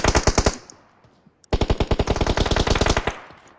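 Rapid machine gun bursts in PUBG, a short loud volley, a pause with a few isolated shots, then a longer sustained burst of closely spaced rounds, close and dominant.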